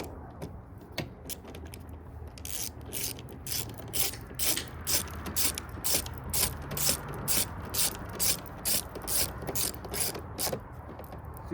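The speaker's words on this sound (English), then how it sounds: "And then we just go ahead and tighten everything up." A hand ratchet tightens bolts while a Yamaha Kodiak ATV is serviced. It gives a long run of fast, crisp, evenly spaced clicks, loud and close, with no talking.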